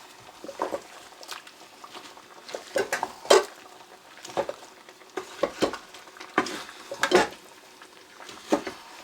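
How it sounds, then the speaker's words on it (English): A spoon scrapes and stirs through chicken biryani in a cooking pot, making irregular close scraping and soft sloshing strokes with no talk. "Give this a stir."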